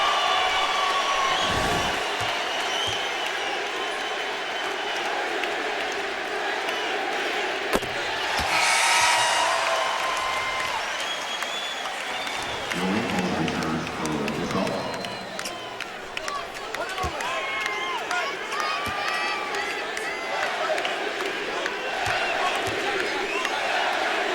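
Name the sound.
crowd at Staples Center cheering Kobe Bryant at free-throw line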